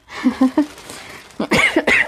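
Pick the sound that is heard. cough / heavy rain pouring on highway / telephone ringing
cough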